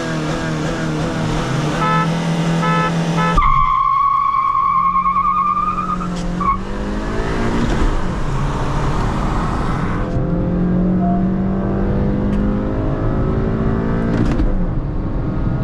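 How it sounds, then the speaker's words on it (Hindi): A Hyundai Verna 1.5L diesel and a Honda City 1.5L petrol car drag race, their engines revving loud and close, with rising whines through gear changes and a sustained strained roar. "तो गाइस पहला राउंड करने जा रहे हैं अपना वरना वर्सेस होंडा सिटी का।"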